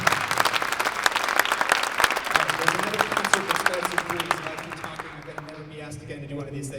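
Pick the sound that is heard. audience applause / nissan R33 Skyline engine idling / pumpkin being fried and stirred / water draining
audience applause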